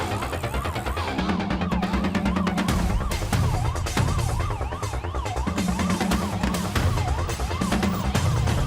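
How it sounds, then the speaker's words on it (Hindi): A police siren wails loudly and continuously, sweeping up and down over busy, pulsing film background music in a dubbed action movie scene. "पुलिस का सायरन है"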